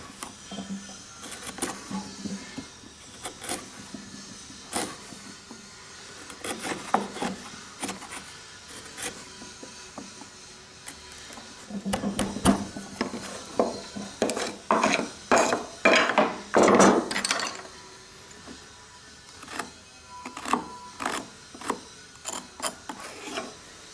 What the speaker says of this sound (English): Both hands on the chisel, none of this business.